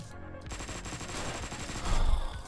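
Gunfire in the top-down action game Hotline Miami 2: a dense, continuous burst of rapid shots running throughout, growing louder and heavier near the end, with no talking.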